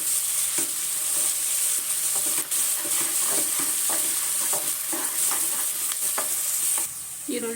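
Chopped onions with a little mint sizzle steadily in a hot pan for paneer pulao, a spatula scraping and stirring through them in repeated soft strokes over a constant hiss, with no one talking.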